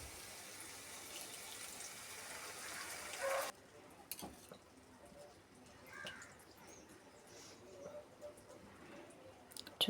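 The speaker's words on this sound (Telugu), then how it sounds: "కొద్దిగా చింతపండు పులుసు అనమాట, ఇది కూడా వేస్తున్నాను ఫ్రెండ్స్" Tamarind water pours into an egg curry, a soft liquid splash and trickle for about three seconds, fairly faint, followed by quieter kitchen background with small clinks.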